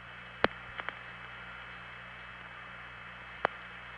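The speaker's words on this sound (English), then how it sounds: "And here's an SP1 tandem." Faint hiss and hum carry a few soft clicks from an SP1 long-distance telephone tandem switch as a call goes through: a sharp click, two lighter ticks, then another click seconds later.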